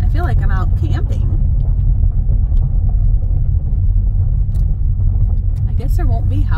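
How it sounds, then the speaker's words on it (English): A small, older Midwest car drives along a road, its low engine and tyre rumble loud and continuous from inside the cabin, while a person talks briefly at the start and end. "My little old car made it."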